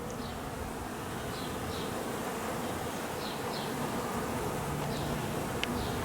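Honeybees buzz around their hive on a cold late-March day, a steady, close hum of many wings with individual bees droning past the microphone now and then.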